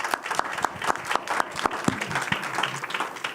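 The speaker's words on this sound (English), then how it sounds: "Round of applause," Audience applause at a medical grand rounds lecture, a few seconds of steady clapping from a modest crowd in a hall, with individual claps distinct and fading near the end.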